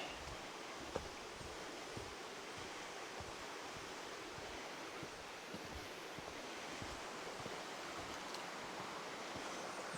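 Raven Creek, a stream running toward Raven Cliffs Falls near Helen, Georgia, rushes with a steady broadband wash of flowing water, continuous and fairly close, with no voices.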